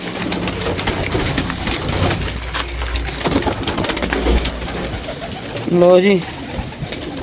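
A female pigeon coos in a short burst near the end, close and fairly loud while being caught by hand, with steady background noise and people talking throughout.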